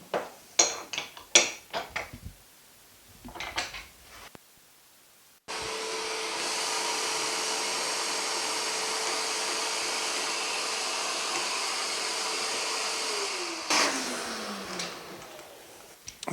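A Bluetooth-switched dust extractor at a tracksaw cutting station runs loudly and steadily for several seconds, then winds down with a falling whine, bracketed by brief clatter and tapping before and after.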